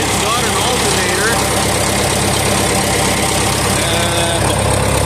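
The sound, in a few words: John Deere 3010 diesel tractor engine idling after cold start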